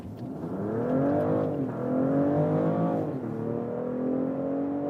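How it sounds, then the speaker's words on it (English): A 2024 BMW X5 50e M Sport plug-in hybrid accelerates hard in Sport mode with its combustion engine and electric drive together, a loud, steadily climbing engine note heard from inside with two upshifts and no talking. "Let's put to the Sport mode and also Sports or S shifting mode, getting the boost from both drivetrains, combustion engine and electric drive."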